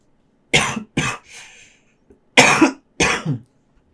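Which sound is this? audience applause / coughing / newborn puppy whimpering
coughing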